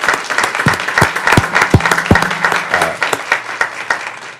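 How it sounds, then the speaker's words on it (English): A loud round of applause from a nearby crowd at a city council meeting, dense steady clapping that carries on throughout and stays strong to the end. "I think everybody should give a round of applause for everybody."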